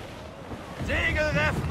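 Storm wind buffets a sailing ship at sea in Assassin's Creed IV, a steady roar of gusts and surf with a voice shouting over it.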